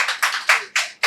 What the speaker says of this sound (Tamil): ஜோரா கைதட்டுங்க, கைதட்டுங்க, கைதட்டுங்க.